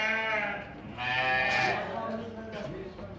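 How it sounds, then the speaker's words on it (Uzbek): Sheep, including rams kept for sale, bleat loudly and close in a few drawn-out overlapping calls in a livestock pen, with faint background noise. "Qo'ylarim soni ko'p."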